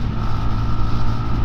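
A BSA 350 Bantam motorcycle engine revs hard on a dual carriageway, giving a loud, steady, continuous drone with a rough low hum throughout.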